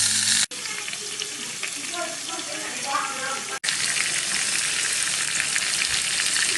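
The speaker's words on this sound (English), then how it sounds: "we're going to let these simmer till all the bottoms brown really well" Potatoes for potatoes fondant fry in a hot pan, a loud, steady sizzle with bubbling and spattering close up, broken by two brief cuts; no one speaks.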